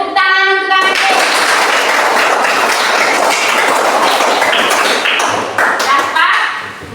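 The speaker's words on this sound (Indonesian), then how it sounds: "Iya, tepuk tangan untuk anak Kenji." Classroom applause for a student, a dense, steady wash of many hands clapping together for about six seconds, fairly loud and continuous, with a few brief tones at the start and end.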